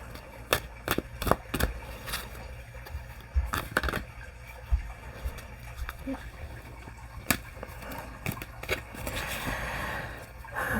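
A deck of tarot cards is shuffled by hand in close, crisp bursts of riffling and slapping, with scattered card taps over quiet room tone.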